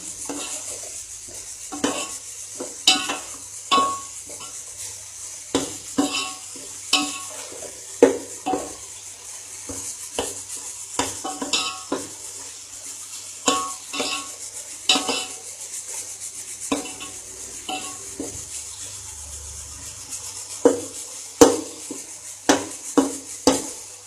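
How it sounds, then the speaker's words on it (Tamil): Repeated scraping and stirring of tomatoes sautéing in a pan with a steady soft sizzle underneath, the utensil knocking against the metal at an uneven pace. "தக்காளி வந்து நல்லா குழைய வதங்கணும்"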